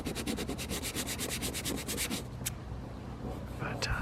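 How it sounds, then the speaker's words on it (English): Hand sanding a scuffed plastic case on a Honda EU2000i generator with 220 grit sandpaper, a close, steady rhythmic rubbing in repeated strokes that slows and thins out toward the end. "try to smooth that out with some 220 grit sandpaper"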